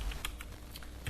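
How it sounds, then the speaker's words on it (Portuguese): Quick, light keystrokes tap out a short expression on a computer keyboard, close and soft, with no talk. "digitar uma expressão Wiggle"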